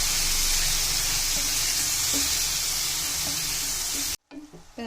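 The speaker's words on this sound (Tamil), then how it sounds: "இப்போ இதெல்லாம் சேர்த்துட்டு நல்லா கலந்து விட்டுக்கோங்க" Chilli powder, turmeric and coriander powder are stirred together in a sizzling pan, a steady hiss of frying with soft scraping strokes that cuts off abruptly near the end.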